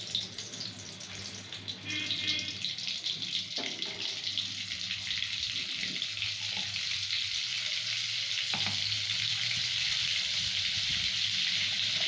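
Butter melting into oil in a wok for a prawn dish, a loud, steady sizzle that builds after a quieter start and holds at close range, with a couple of faint knocks and no speech.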